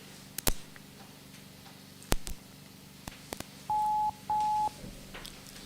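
Telephone dialing during a live phone-in broadcast: a few scattered clicks and ticks, then two steady mid-pitched DTMF-style tones, each about half a second, sounding clearly over a quiet background with no talking.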